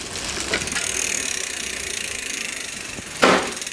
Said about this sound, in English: wrench is going back. That's the way to take your pedal off.